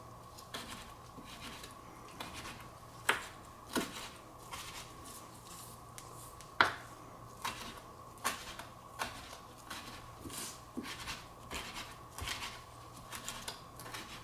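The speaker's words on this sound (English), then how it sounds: "And then we just give it a little bit of a chop like we did everything else." A knife chops fresh cilantro on a cutting board for nachos, a series of crisp, close taps in an uneven rhythm, some louder than others, over a quiet kitchen hum with no talk.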